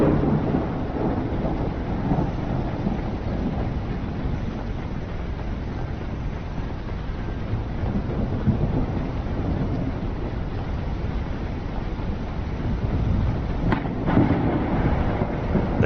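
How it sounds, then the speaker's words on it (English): Thunderstorm with rain in the fantasy survival game Ars Notoria: a steady, dense wash of rainfall with a low rolling rumble of thunder throughout, loud and continuous with no talking. "They do make those thunderstorms sound something serious."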